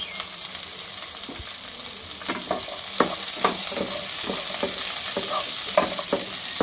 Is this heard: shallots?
yes